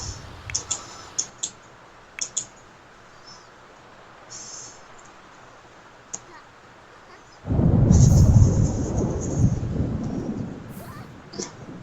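A thunderstorm in The Sims 4 begins with faint scattered clicks over a quiet background. A loud, deep thunder rumble then breaks out and slowly fades into steady rain.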